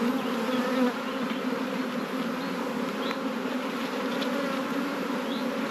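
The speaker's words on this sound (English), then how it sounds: "But if you want to get rid of the bees, do that, look" Honeybees buzzing steadily at an open beehive during a beginner's hive inspection, a dense, continuous hum close by with occasional louder passes of individual bees and no voices.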